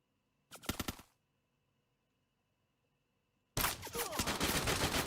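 Rapid automatic gunfire in a battle royale video game, a short burst followed by silence, then a longer, louder sustained volley of shots.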